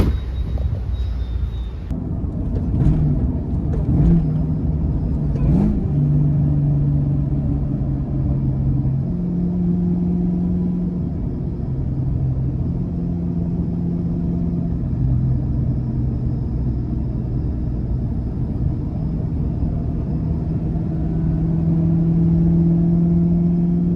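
A 2003 Ford Mustang Terminator Cobra with a catless X-pipe exhaust rumbles loud and deep while driving, its engine note rising and falling through gear shifts, close and continuous with almost no talk.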